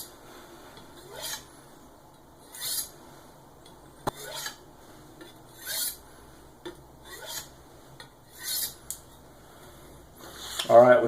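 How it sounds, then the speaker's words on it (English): Knife edge drawn across a sharpening stone to remove the burr, a series of about six evenly spaced gritty scraping strokes, close and fairly quiet, ending in a louder rustle. "continue with these kind of burr removing passes here on the stone"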